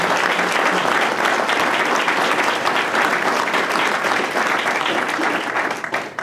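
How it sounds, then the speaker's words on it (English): An audience at a 2018 Connecticut gubernatorial candidates' forum applauds, a dense, steady clapping that holds loud throughout before starting to taper at the very end. "please join me in a round of applause for our candidates."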